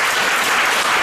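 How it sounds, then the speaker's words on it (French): A church congregation applauds loudly with dense, continuous clapping that fills the whole brief moment. "Acclamez Jésus"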